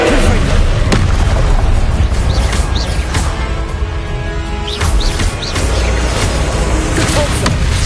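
Confringo fire spell blasts in the Hogwarts Legacy video game, a loud dense battle mix with several booming bursts and pops over a constant rumbling background, no voices.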